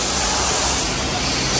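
Aerosol spray paint hisses steadily and loudly at close range as white paint coats a Volkswagen brake caliper, one continuous burst lasting the whole moment with no pauses.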